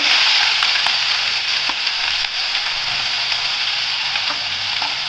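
A steady, loud sizzle of onion frying in a hot pan with cumin and mustard seeds for poha, constant and close, with a few faint clicks on top.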